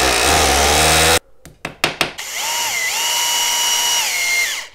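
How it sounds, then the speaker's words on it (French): A power drill with a 6 mm bit boring holes into garage ceiling beams: a steady loud whine that cuts off, then a few short bursts, then a long run whose pitch shifts as it works. "Ici, je vais percer 3 trous et le reste, je vais visser directement dans les poutres."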